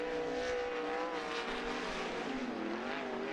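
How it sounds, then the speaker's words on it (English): Sprint cars in a heat race at Coos Bay Speedway, engines droning and whining together in a sustained layered roar, pitch sliding as the pack circulates at moderate distance. "Third and final 8-lap heat race for the Interstate Sprint Car Series as they wind it up"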